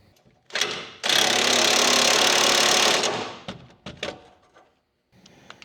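A power tool tightens parts on a truck in a loud, close burst of about two seconds. Shorter clicks and knocks come before and after it.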